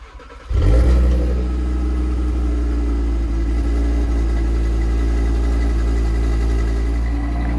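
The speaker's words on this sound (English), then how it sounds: "here's the cold start on it." A 2020 Audi RS3 engine cold-starts with a sharp burst, then settles into a loud, steady high idle with a raspy wastegate rattle running through it, close and continuous with no talk.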